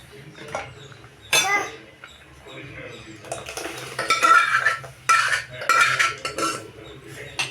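Cooked dal tipped into a pot of pumpkin sambar and stirred, with sharp metallic clanks of a spoon against the vessel and scraping bursts, close and loud, while a person talks between the clatters.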